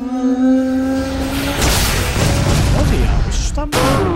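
An attack effect called 'parafuso do além' in the game Manamon 2: a sustained tonal hum gives way to a loud booming, rumbling burst with a sharp cutoff, and a voice speaks over it.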